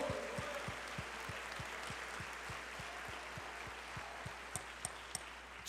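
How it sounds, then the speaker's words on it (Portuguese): A church congregation applauds together at a Sunday service, a steady dense wash of clapping at moderate level that holds evenly throughout. "Você quer aplaudir ao Senhor?"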